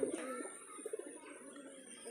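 Soft, low pigeon coos repeat in short bursts on a pigeon farm over a faint steady background hum, with brief pauses between calls.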